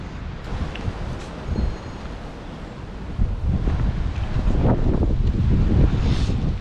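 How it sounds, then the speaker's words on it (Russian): Strong wind gusts outdoors near the Saatchi Gallery in London, with trees swaying hard. The roar is loud, continuous and buffeting, swelling stronger in the second half, with no talk over it. "Смотрите, какой ветер, деревья вовсю, да?"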